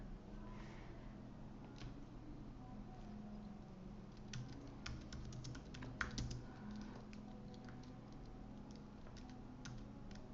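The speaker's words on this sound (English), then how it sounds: "me typing another query to see if it will search the PDF for the answer" Typing a query on a Mac computer keyboard: a steady patter of soft key taps, sometimes quicker and denser, played quietly and close over a faint low hum, with no voices.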